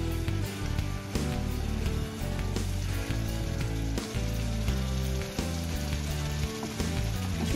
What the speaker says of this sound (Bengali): পানি ইউজ করবো এটার মধ্যে মশলাটা হালকা কষানোর জন্য